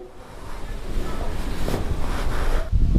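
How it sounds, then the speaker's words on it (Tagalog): Strong wind buffets the microphone in Rosario, Batangas, a loud rushing roar that swells over a few seconds and gusts harder near the end. "Ang lakas sobra ng hangin."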